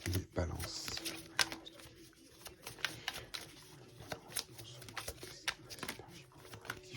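Tarot cards shuffled and slid from a deck during a reading, a run of short papery flicks and snaps repeating close by under a quiet background, with a voice speaking at the start.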